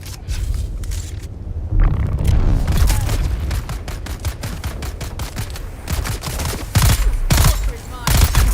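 Rapid bursts of gunfire in the video game Dune Awakening, loud, close cracks in quick volleys and scattered single shots over a rumbling backdrop, with brief voice sounds mixed in.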